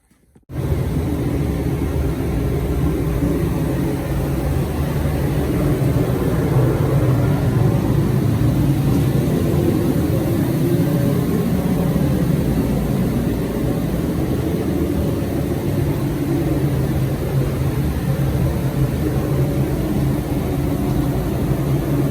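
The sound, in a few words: big blowers running in car paint shop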